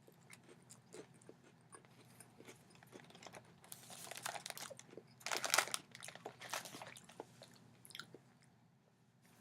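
Crunchy chewing of Game of Thrones edition Oreo cookies, faint and close, with bursts of crisp crunching rising in the middle over a quiet background.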